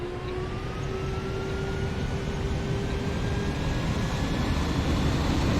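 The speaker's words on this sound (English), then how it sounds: "Sorry about the volume of the plane." A loud, steady airplane engine drone from a flight simulator game continues without a break, with a tonal whine that slowly rises in pitch. No one speaks.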